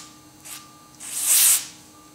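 Brake cleaner sprayed from an aerosol can onto a rubber overmolded grip: a short hiss, then a longer, louder spray burst of about half a second, close up with no talk.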